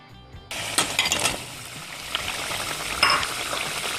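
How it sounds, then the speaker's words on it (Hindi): Three peeled, cut medium potatoes tipped into hot oil in a pot, with a clatter of pieces landing at the start followed by steady, fairly close sizzling and a few stirring clinks. "अब इसमें हम ये 3 आलू डालेंगे"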